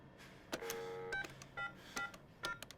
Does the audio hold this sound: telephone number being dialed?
yes